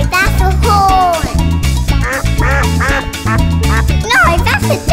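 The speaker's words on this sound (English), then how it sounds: "No, that's a duck." A cartoonish duck quacks repeatedly in a bright, nasal, bouncing pattern, loud and close over a steady musical backing.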